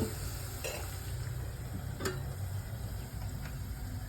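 Peanuts and curry leaves fry in oil alongside fried okra, making a continuous close sizzle with a few light clinks and stirring taps. No voices.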